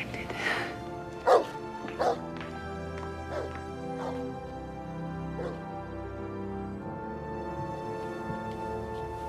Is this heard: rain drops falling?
no